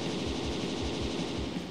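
Rapid gunfire shots in the video game Kyotokei, a dense, steady stream of close, loud repeating shots with no talk.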